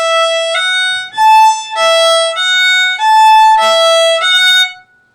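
A beginner plays a bowed string instrument in a short sequence of sustained notes, alternating an open string with first and third finger notes, clear and close with no talking.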